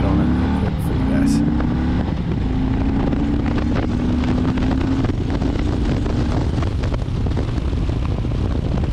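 A Harley-Davidson Fat Boy 114 motorcycle rumbles steadily on a test ride, its low engine drone running continuously under heavy wind buffeting across the microphone.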